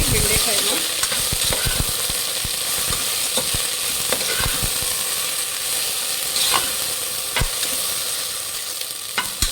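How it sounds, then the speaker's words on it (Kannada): Okra sizzling steadily in hot oil while being fried for a bhindi sambar, with a continuous crackling hiss and occasional sharp stirring clicks of a spoon against the pan, with no talking. "ಎಣ್ಣೆಯಲ್ಲಿ ಚೆನ್ನಾಗಿ ಫ್ರೈ ಮಾಡಿ ಬೆಂಡೆಕಾಯಿನ"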